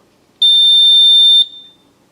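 A Chamberlain wireless alert receiver gives a single loud, high-pitched electronic beep that holds steady for about a second, then cuts off in a quiet room.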